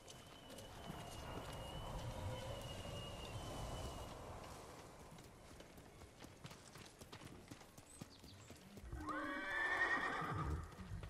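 Horse hooves clip-clopping at a run in the feudal Japanese world of Ghost of Tsushima, a steady galloping rhythm that ends in a clear neigh near the close, fairly quiet overall.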